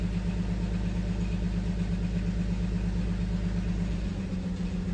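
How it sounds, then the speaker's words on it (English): A Nissan Xterra engine idles with a misfire, a steady close low rumble that wavers and stumbles slightly toward the end, heard alone. "now it's misfiring worse now that I turn the injector back on"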